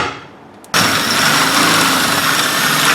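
A power drill bores holes in a fan shroud, starting abruptly after a quiet moment and then running as a loud, steady, close whine to the end.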